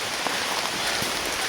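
Light drizzle in a mountain forest, a steady soft hiss of fine rain pattering on leaves and surfaces with occasional distinct drops, no voices.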